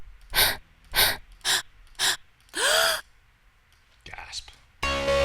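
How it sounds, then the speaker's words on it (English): Breathy gasp vocal samples in a dark underground beat: four short sharp inhaled gasps in a steady rhythm, a longer rasping breath, a faint whispery breath, then an abrupt burst of dense synth tone at the end. "Gasp."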